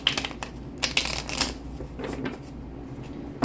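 Brisk rustling and flicking of a deck of tarot cards being shuffled in several quick bursts, close up, with no talking.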